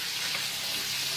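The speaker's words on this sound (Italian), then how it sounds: "lo mettiamo in pentola, lo facciamo rosolare un pochino" A stuffed roast browns in a pot, giving off a steady, even sizzle of hot fat that continues without a break and with no talk over it.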